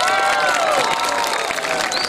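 At the San Felipe patronal fiestas, a crowd claps and cheers for a contest winner, a dense burst of applause with sliding whistles and shouting voices, steady and fairly loud throughout.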